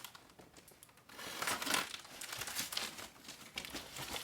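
Boxed RC car kit packaging is unwrapped and handled up close, giving irregular crinkling and rustling bursts that grow busier after the first second, with no speech.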